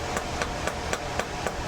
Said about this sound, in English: Just hammer it down.